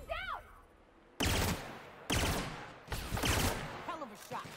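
Gunfire in The Outer Worlds comes in several abrupt, loud bursts separated by short gaps, mixed with brief vocal sounds and combat noise between volleys.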